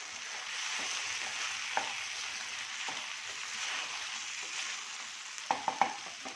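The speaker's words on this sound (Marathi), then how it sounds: "आता हे सगळं मिक्स करून घ्यायचं आहे" Steady sizzling of frying sabudana khichdi with potato pieces, salt and sugar as a spoon stirs the mixture in a pan, with a few sharp scrapes and clinks near the end.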